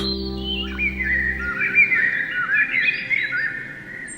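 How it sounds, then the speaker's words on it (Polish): Songbirds chirping and trilling in a spring forest, a continuous bright twittering of several birds close by, steady for the whole stretch with a low hum fading out early on. "Ptasi świergot rozlega się teraz wszędzie, od świtu do zmroku."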